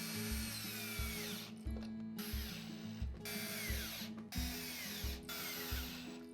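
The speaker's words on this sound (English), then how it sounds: "Set your drill at its lowest RPM and then start driving in the AXS pivot receiver up against the post." A power drill set to its lowest speed drives a cable railing pivot receiver into a post, whirring in several short bursts separated by brief pauses, close by, its motor running low and labored.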